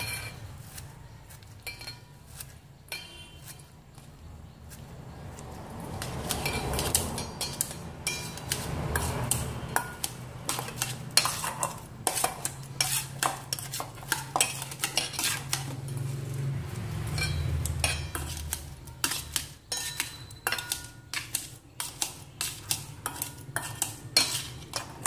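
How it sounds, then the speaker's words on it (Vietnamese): Utensils clink and scrape against a bowl while glass noodles are cut small and mixed for Vietnamese pork nem, a steady run of close metallic taps and light stirring with no talk. "Các bạn cắt cho mình miến nhỏ nhé để mình cho vào trộn."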